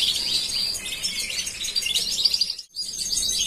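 Female London Fancy canary chirping close up, a run of bright, rapid tweets and trills with a brief pause before the calls resume.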